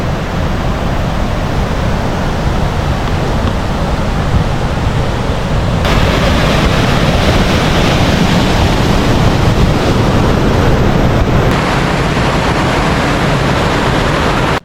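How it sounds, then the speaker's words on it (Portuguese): A small waterfall cascades at Monte Verde, Minas Gerais, giving a loud, dense, steady rush of falling water with no pauses. "Isso aqui é a primeira parada do passeio de TV. É aqui nessa cascatinha."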